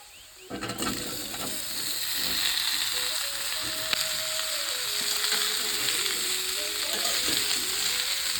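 Pumpkin goes into a hot tempering of whole cumin, dried red chili and onion, setting off a sudden hiss that settles into a continuous loud sizzle lasting several seconds, with faint clinks and no talking.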